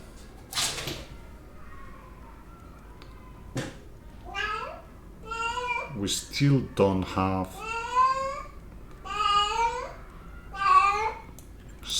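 A house cat meows repeatedly and loudly close by, a string of drawn-out, rising and falling cries, with a voice talking briefly before them.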